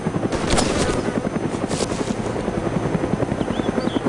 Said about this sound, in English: The helicopter's shooting at me.